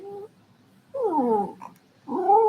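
A dog whimpers and whines in a few high, wavering cries, each under a second long, separated by short quiet gaps, heard up close with no talking.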